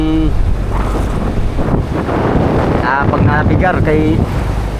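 Strong southwest monsoon wind buffets the microphone over the roar of 5 to 6 foot waves on the Pacific Ocean and a boat engine at sea, with a voice speaking briefly.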